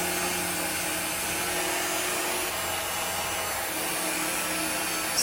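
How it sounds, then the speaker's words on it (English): A small Too Cool electric fan blowing on hair, a steady, even motor whir with a constant airy rush, fairly close and unbroken throughout. "I'm going to take my little Too Cool fan and I'm going to fan this"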